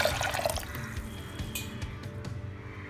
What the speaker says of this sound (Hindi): अब हम इसमें 2 कप पानी डाल देंगे